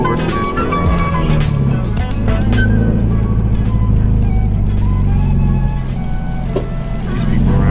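Loud car exhaust rumbling steadily up close, a deep continuous drone with some higher mechanical tones and brief beeps early on.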